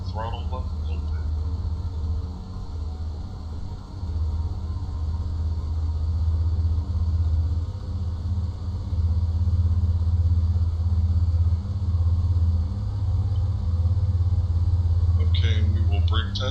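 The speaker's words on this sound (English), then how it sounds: "So we will just bump the throttle up a little bit." Twin piston engines of a Piper Seminole flight simulator drone with a low, steady rumble and slowly build as the throttle is eased up. The sound is loud and continuous, with a brief click near the end.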